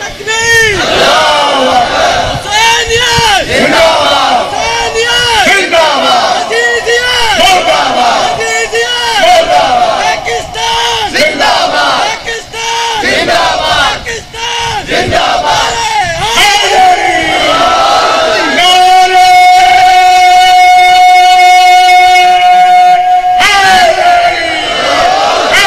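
A large crowd at a religious gathering chants slogans loudly in unison, with repeated roaring call-and-response bursts that swell and fade over and over, then a sustained tonal passage near the end.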